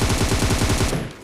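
Rapid automatic gunfire in a mobile battle-royale shooter game, a loud sustained burst of closely spaced shots that cuts off after about a second, leaving a quieter tail.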